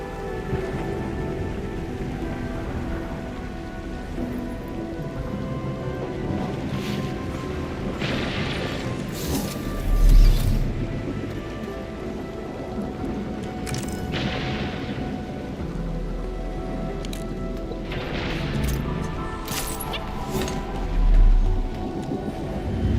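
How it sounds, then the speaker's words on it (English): Heavy rain pours steadily through a video game scene, a constant hiss of drops with two deep rumbling crashes of thunder about ten seconds apart. "It's raining harder. I can't hear anything except for the rain."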